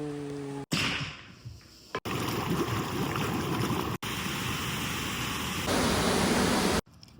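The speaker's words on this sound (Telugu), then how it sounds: "వాటర్ ఫాల్స్ ఎంత బ్యూటిఫుల్ ఉంది" Waterfall in Vermont rushing as a dense, steady roar of falling water, loud and close, broken by a few abrupt cuts.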